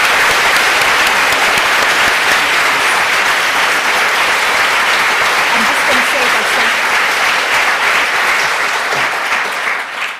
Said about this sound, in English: Thank you so much for clapping before I asked you to